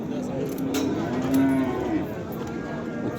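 Cattle lowing at a busy livestock bazaar in Shahrisabz, a drawn-out moo rising over crowd chatter and background noise, one nearby animal heard alongside people talking.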